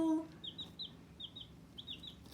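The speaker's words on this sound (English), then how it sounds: "These are my first laying hens, and they're just absolutely adorable." Young laying hen chicks kept indoors give soft, high peeping clucks in short paired bursts, faint and close against a quiet room.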